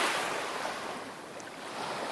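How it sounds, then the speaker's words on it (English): An AI-built 3D video game plays a steady wash of surf and ocean waves, a soft, hissing, wind-like roar that continues without a break and swells slightly toward the end. "I can even hear water sound effect in the background"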